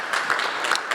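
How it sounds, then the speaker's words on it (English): A short burst of audience applause at an economic development forum: dense, even clapping heard close, with no voices. "Let's give them a round of applause"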